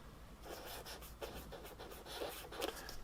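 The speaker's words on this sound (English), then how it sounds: "So let's write that down." A calculation written by hand with pen or pencil on paper, giving a quiet, continuous scratching with short rhythmic strokes, close and faint.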